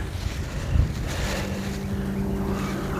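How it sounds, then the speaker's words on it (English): Blustery wind buffets the microphone in rumbling gusts, with a low steady motor drone in the background. "I'm getting little gusts of wind."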